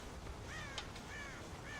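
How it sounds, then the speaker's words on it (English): Crows caw in the Red Dead Redemption video game, several harsh calls repeating over a steady ambient game background, moderately faint with no talking. "God damn crows!"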